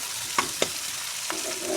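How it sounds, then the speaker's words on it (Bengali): Onions with spices sizzle in a pan as they are stirred, with a steady close hiss broken by a few sharp scrapes. "সব মশলা দিয়ে পেঁয়াজগুলোকে ভালোভাবে নেড়ে চেড়ে নিয়েছি।"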